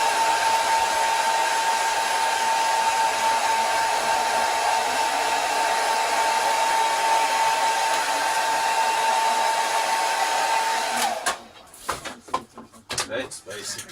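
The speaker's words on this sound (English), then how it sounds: "Grab my hairdryer and dry it quickly." A hairdryer blows steadily and loudly while drying fresh paint on a 1/24 scale slot car model, a constant whooshing drone that cuts off near the end, followed by a few clattering handling noises.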